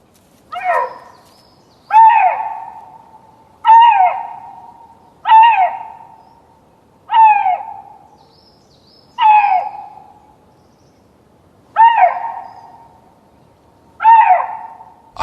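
A male Eurasian lynx calling during mating season, a series of eight loud, near, drawn-out hoarse hoots repeated at roughly even intervals of about two seconds, with silence between them and no other sounds.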